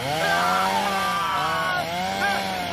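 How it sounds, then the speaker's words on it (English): A chainsaw engine runs steadily and loudly up close, its buzzing pitch rising and dipping slightly as the throttle varies, with no talk over it. "I told you to lose that chainsaw."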